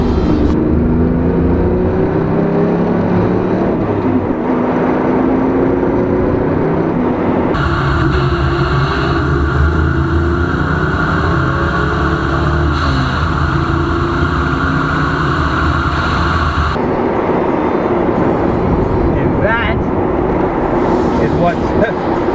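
A 1999 Chevy S10 Extreme pickup's engine roars steadily under hard acceleration, its pitch jumping at what sound like two gear shifts, with a person talking over the constant loud drone.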